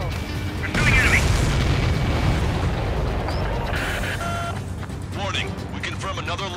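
Missiles explode in the Ace Combat 7 flight game during a mission against nuclear missile silos, with deep booms and rumbling blasts over a steady engine drone, followed by short electronic beeps and tones as voices speak.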